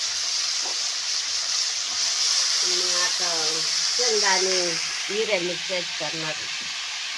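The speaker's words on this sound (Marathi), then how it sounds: "आणि त्याला फोडणी द्या पहिल्यांदा" Phodni tempering sizzling in hot oil for a village-style bottle gourd curry with peanuts and green chilies, a steady hissing fry with a voice talking over it in the middle.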